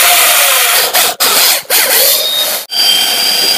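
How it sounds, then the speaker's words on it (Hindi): A drilling machine bores a center hole, whirring loudly and steadily with several brief pauses where the bit stops. "ड्रिलिंग मशीन से होल डाल लेना"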